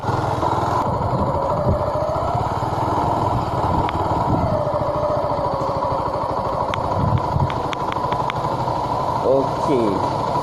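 A ZONTES ZT 155U motorcycle engine hums steadily while the bike weaves through a slalom, the note rising and falling slightly, with a voice talking over it.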